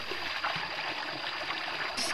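Water runs continuously at a village stream used for drinking, washing and bathing, a close, even rushing and trickling that stays steady throughout.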